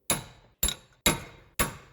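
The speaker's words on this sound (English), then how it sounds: "Grab a punch and you're going to stake the nut to make sure it doesn't come out." Four sharp metallic hammer strikes on a punch staking an axle nut on a 2012 Subaru Impreza wheel hub, evenly spaced about half a second apart, close and ringing briefly after each blow.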